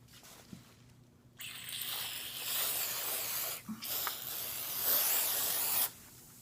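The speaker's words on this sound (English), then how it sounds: "Make sure you don't spray on the leather." Cleaner sprays onto an older Coach purse in a long, steady close-up hiss that stops briefly partway through, then hisses again before cutting off near the end.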